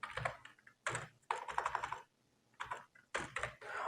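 Bursts of rapid clicking on a computer keyboard as a narration is typed into accounting software, close and crisp, with brief pauses between runs of keystrokes.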